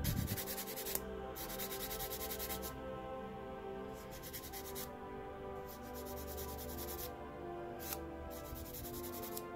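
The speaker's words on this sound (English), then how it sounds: "Then you get your sanding stick." A sanding stick rubs steadily against a small part of a Custodian Dreadnought miniature model, close and continuous, with brief pauses where the scratchy strokes stop before resuming.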